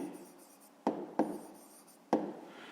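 Pen strokes scratch on paper while a math exercise is written out by hand, a soft continuous rubbing marked by three sharp taps as the pen touches down, close and quiet with no talk.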